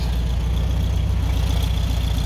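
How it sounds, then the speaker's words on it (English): A 1985 Mexican Volkswagen Beetle engine idles steadily nearby, a low, even rumble with a faint ticking hum and no voices. "Engine sounds sweet, ticking over."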